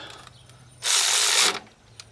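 Ratchet wrench tightening a car battery terminal nut on a Subaru Legacy, one short burst of rapid clicking about two-thirds of a second long, close and fairly loud against a quiet background.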